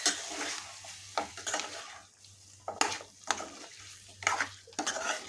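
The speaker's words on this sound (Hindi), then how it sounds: "मिक्स कर लेंगे इसको पूरे मसालों के साथ।" Cooked mutton is stirred into fried masala in a pan for a Kolhapuri mutton thali. A spoon scrapes and clanks against the pan in irregular bursts over a low sizzle, close up and without talking.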